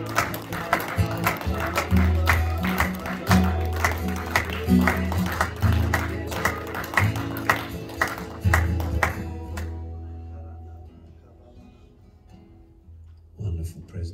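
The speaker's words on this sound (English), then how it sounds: "Let's give him a clap offering and praise." A church congregation at The Potter's House Newcastle claps in a loud burst of applause for several seconds, with a rhythmic musical backing underneath, then fades to near quiet before a brief return of sound at the end.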